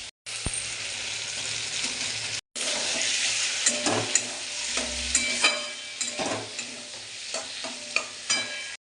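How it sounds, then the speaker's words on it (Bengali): Snails and fried potato are sautéed in spices, with a spatula scraping and stirring through a steady sizzle. Clear scraping strokes sit close over the frying after a brief pause early on. "এবার সুন্দর করে এগুলোকে মশলার সঙ্গে কষিয়ে নেব।"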